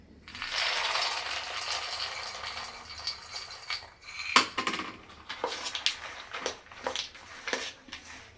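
Peanuts being stirred and mixed in a pan while making masala peanuts, giving a steady scraping rattle that turns into a string of sharper clinks and knocks of the spoon against the pan, close by with no talk.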